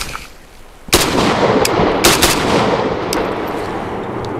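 A large format handgun fires several loud, sharp shots, one near 1 s, another near 2 s and a fainter one later, each crack ringing out into a reverberant tail with no talking.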